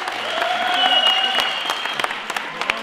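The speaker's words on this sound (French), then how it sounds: "On l'applaudit les gars." Crowd at a boxing event clapping for a knocked-out fighter, a short burst of applause with a tone ringing underneath, thinning into scattered individual claps near the end.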